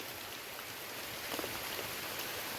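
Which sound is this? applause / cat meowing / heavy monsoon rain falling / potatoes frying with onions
heavy monsoon rain falling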